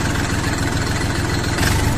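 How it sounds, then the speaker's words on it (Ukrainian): TM 385 diesel engine idling on an Orion 24 hp mini tractor, a steady, loud, rhythmic low chug heard up close with no break or talk. "Ви чуєте роботу знаного і коханого вами двигуна ТМ 385 який встановлений на Дофенгах, Луволах"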